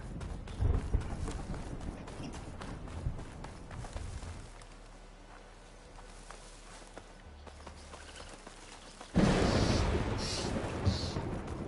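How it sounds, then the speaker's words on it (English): Rain and thunder from a Horizon Forbidden West storm rumble steadily, ease into a quieter stretch, then break into a sudden loud crash of thunder and heavy rain; hoof-like footsteps may tap underneath. "That's quite the storm out there."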